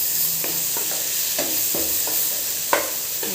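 Ingredients sautéing in a pan sizzle steadily and close, with regular stirring scrapes every half second or so and one sharper knock of the spoon.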